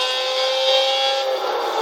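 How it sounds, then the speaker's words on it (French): A Jaguar XJ13 race car engine in the Gran Turismo 6 video game holds a loud, steady, high-pitched howl for a couple of seconds, smooth and sustained with only a slight shift in tone, alone with no voices. "Ah, le son de la voiture il est vraiment magnifique."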